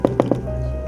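Three sharp knocks in quick succession echo through a supposedly haunted castle, loud and close, followed by a steady low hum and a faint sustained tone.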